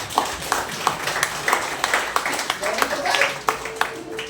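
A church congregation claps in a rapid, uneven patter of many hands at moderate distance, with a voice speaking over the applause.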